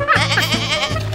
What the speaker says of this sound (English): Silly goat.